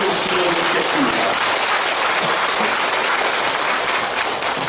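An audience at a religious gathering claps in thanks: loud, dense, continuous applause filling the whole stretch without a break.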